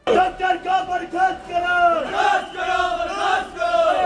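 Angry crowd inside a hospital chanting slogans in unison, loud rhythmic shouted phrases that repeat close by throughout.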